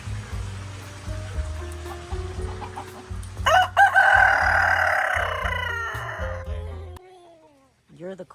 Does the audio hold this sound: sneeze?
no